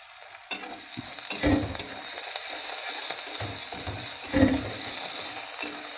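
A spoon stirs curry masala with garlic paste and slit green chillies frying in a pan for a Bengali rohu fish curry, a continuous close sizzle broken by scraping strokes and light metal clinks.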